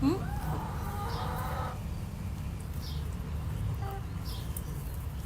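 Chickens cluck in short, scattered calls over a steady low background hum, with a brief higher squawk at the start and fainter clucks later on.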